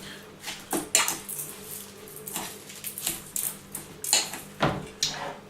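Minced meat for meatball soup being mixed by hand in a bowl, with repeated wet squishing pushes and soft clinks of utensils against the dish, close and fairly quiet, with no talking.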